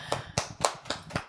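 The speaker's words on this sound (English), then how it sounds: "Round of applause." A single person claps hands five times in a steady rhythm, each clap crisp and close.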